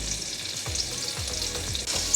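Spice-seasoned fallow deer meat sears in a hot pan alongside bacon, a steady close sizzle with a few soft stirring scrapes and low thumps throughout.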